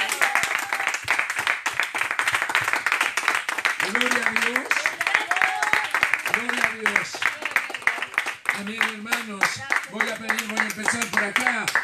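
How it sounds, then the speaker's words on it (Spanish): A church congregation in San Juan claps steadily through the whole stretch, with voices calling out and singing over the applause. "Y a su nombre le damos un fuerte aplauso a Jesús."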